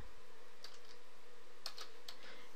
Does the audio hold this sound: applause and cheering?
no